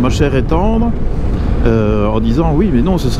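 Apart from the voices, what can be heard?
No everyday noises stand out.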